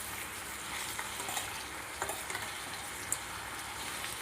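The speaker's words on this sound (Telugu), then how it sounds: "ఇవి బాగా ఫ్రై అయ్యేంత వరకు కలబెట్టుకుంటూ ఉండాలి." Ivy gourd fries in a pan with turmeric and salt, giving an even, hissing sizzle with occasional light taps and scrapes of a stirring spoon, close and without voices.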